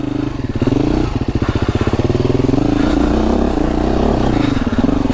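A KTM 350 four-stroke dirt bike engine revs hard and steadily on a snowy track, a loud, close, continuous rasping drone with rapid pulsing and rising and falling pitch.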